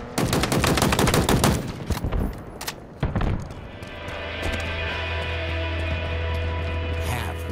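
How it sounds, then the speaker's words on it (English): Commando rifle fire in Halo Infinite: dense, loud rapid automatic bursts for about three seconds, then a lingering low game hum and ambient drone. "You have procured the commando rifle."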